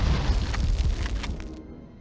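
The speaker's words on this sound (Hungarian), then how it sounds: "Na jó, akkor az összes ilyen kicsi doboz az robbanék" Small crates blowing up in the Medal of Honor video game: a loud, close, rumbling blast with a crackling burst that fades over about two seconds.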